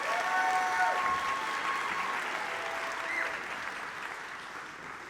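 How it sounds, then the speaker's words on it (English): A high school audience at a spring choir concert applauds the Bonita High School Chamber Singers, a dense, even wash of clapping that slowly fades over several seconds, with no talking. "let's give another round of applause to the Bonita High School Chamber Singers"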